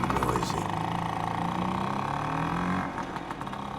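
Scooter engines with fiddled, modified exhausts drone in a video game scene, a steady rough mid-pitched buzz with shifting revs that dips near the end, while a voice speaks over it.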